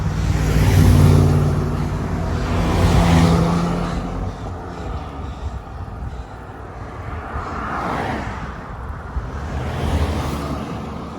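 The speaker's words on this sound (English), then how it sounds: "Oh, car back." Car approaching a road cyclist from behind and passing, a loud rising engine and tire roar that swells, fades, then returns more faintly amid steady wind noise, with no talking.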